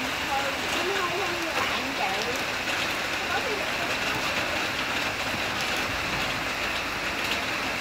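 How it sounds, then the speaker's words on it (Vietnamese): Steady rain falls and patters on surfaces close by, a dense continuous hiss throughout, with people talking underneath at an outdoor cookout of grilled octopus and beef skewers. "trời ơi, ăn mà mưa nó rớt kìa."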